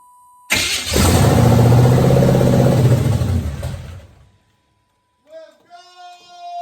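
A car engine cranks and catches, then revs loudly and roughly for about three seconds before cutting out abruptly; a brief silence follows, then voices talk nearby.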